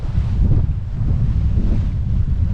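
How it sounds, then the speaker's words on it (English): Strong wind buffets the microphone aboard a sailboat in about 20 knots of breeze, a loud, steady low roar with gusty surges and water rushing underneath, no voices. "we've got loads of wind. 20 knots."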